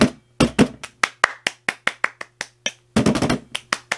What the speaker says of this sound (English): all you hear is plastic and clapping